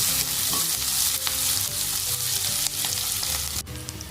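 A large onion and three green chillies fry in hot oil for a village-style Rayalaseema chicken curry, with a dense continuous sizzle, a spoon clinking and scraping as they are stirred, and no voices.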